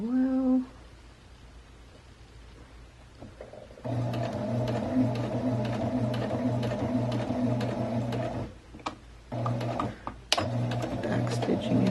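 Sewing machine stitching along the edge of a fabric face mask with a filter pocket, a steady mechanical whir running in bursts with brief pauses and stops, close and moderately loud, with a voice speaking briefly at the start.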